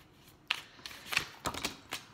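A new, still-slippery tarot deck is shuffled by hand, giving a few quick riffling bursts and soft card slaps, close and fairly quiet with no talking.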